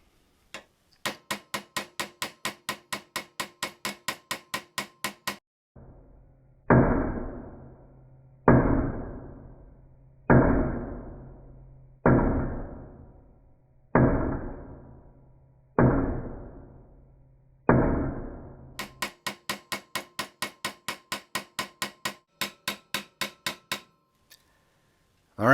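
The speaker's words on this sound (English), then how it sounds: "off to the vise for a little tapping with the ball peen hammer" A ball peen hammer strikes a metal die-cast toy car part held in a vise, in quick rapid bursts of light taps, then six slower, heavier ringing blows, then another fast flurry of taps.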